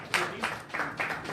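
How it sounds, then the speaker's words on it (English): Brief applause for the media at a pageant press conference, a few scattered bursts of clapping from a small crowd, fairly faint and short. "Round of applause to our media folks."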